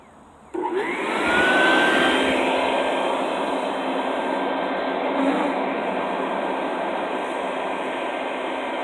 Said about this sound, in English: Stick the vacuum hose right in there.